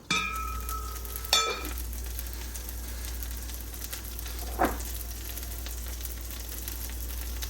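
Beef steak and cube chunks frying in a pan for Puerto Rican bistec encebollado, a soft, continuous sizzle with two sharper clatters of metal, one early and one later, over a low kitchen hum.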